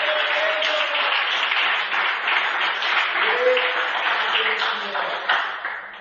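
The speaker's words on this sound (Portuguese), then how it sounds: "Aplaudir Jesus" A church congregation applauds steadily through a Portuguese-language sermon service, a dense wash of many hands clapping at once with a few voices and faint tones rising over it.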